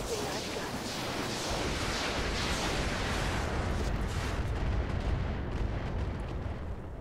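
In the video game Roguepoint, weapons fire together in a heavy sustained barrage, a dense roar of booming shots and rumbling blasts that rises and holds loudly throughout.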